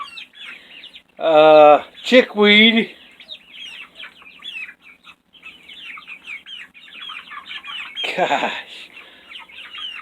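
Chickens on a small farm give a few loud, close clucks and squawks in short bursts, with softer clucking between them and a person speaking briefly nearby.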